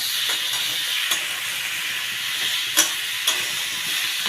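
Ridge gourd and potato pieces fry with shrimp in a pan, giving a steady broadband sizzle throughout, broken by a few brief sharp crackles and pops near the start and end, with no voices.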